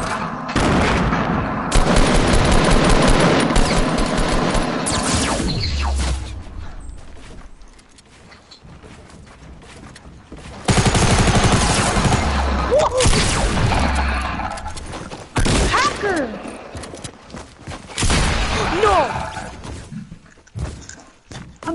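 Fortnite gunfire in loud bursts: dense rapid shots and impacts, a quieter lull in the middle, then more volleys with sharp cracks, close and intense.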